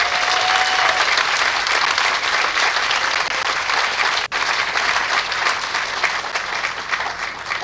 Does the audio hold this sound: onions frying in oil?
no